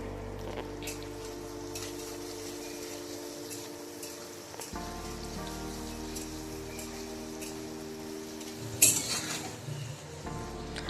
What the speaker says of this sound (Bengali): দিয়ে দিচ্ছি ডুমো ডুমো করে কেটে রাখা আলু এবং একটু লবণ দিয়ে ভালো করে ভেজে নেব